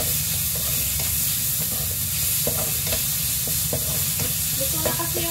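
Meat sizzles and crackles steadily in a hot pan, a dense continuous frying hiss with scattered pops and occasional stirring scrapes, close and alone without talk.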